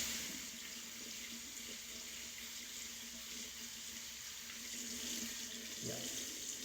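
Water runs from a tap into a sink while orchid seedlings are rinsed one by one, a steady soft splashing and flowing stream, quiet and close, with a few brief handling splashes.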